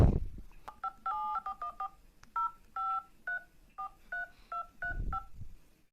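Telephone keypad dialing tones for a call to Garena's support line: a quick, uneven series of clear electronic beeps, each short and crisp, heard close with no talk.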